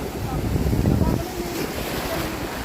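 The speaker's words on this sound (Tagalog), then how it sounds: "Ano lakas ng alon, oh?" Strong ocean waves at high tide wash onto a beach in Pangasinan, a broad rushing surge swelling then easing into steady churning surf, close and loud with wind buffeting the microphone.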